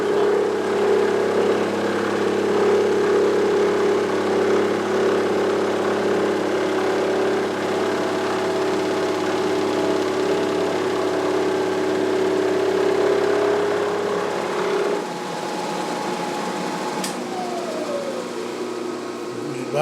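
A milling machine cuts metal during a motorcycle shock tool build, droning with a steady tonal hum and hiss that drops and winds down near the end.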